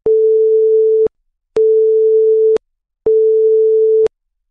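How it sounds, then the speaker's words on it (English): Industrial radiography exposure warning signal in an open-top bay: three identical steady electronic tones, each about a second long, separated by short even gaps, loud and clear with nothing else audible. "After the green button has been pressed, a warning will sound for about 5 seconds."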